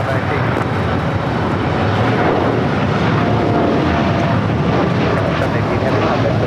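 A jet airliner with mismatched engine cowlings at LAX airport gives a loud, steady broadband roar that fills the whole clip, with no break or fade.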